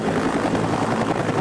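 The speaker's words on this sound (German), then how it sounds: "Helikopter." A helicopter in the video game Sniper: Ghost Warrior thrums with steady, loud rotor chop, continuous throughout without any talk.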